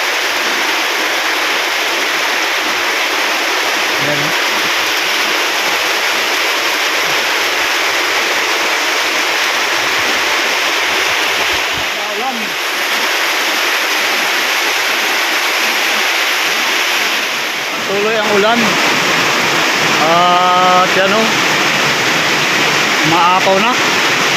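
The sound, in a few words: river water flowing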